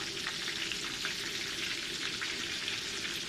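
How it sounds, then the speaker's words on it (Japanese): Thin-sliced pork, layered into a tonkatsu, deep-fries in 180-degree oil with a dense, even bubbling hiss that sounds like steady rain. It is close and carries on unbroken. "油で揚げてます"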